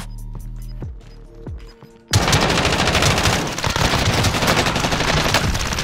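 A CX-9 SMG fires in Call of Duty Warzone: a few separate shots ring out at first, then after a short pause a loud, sustained burst of rapid automatic fire lasts several seconds.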